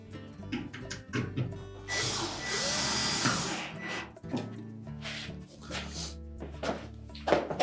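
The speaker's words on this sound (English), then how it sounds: "We're now ready to install the retaining screws." A power driver runs in one sustained burst of about two seconds as retaining screws go into a Samsung dryer during a drive-belt replacement, with someone talking before and after, plus light clunks of panels and parts.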